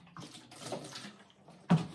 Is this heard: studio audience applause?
no